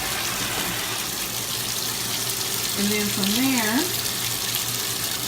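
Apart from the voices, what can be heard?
washing machine filling with water for newborn clothes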